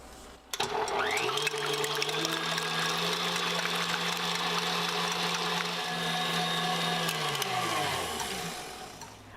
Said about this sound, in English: now we're just going to beat this until it forms nice stiff peaks